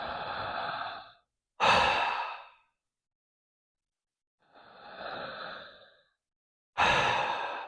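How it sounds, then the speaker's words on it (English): Slow, deep circular breathing, a long voiced inhale flowing into a sharp, breathy exhale, repeated twice with short gaps, close and alone with no talk. "that's why they call it conscious connected breathing"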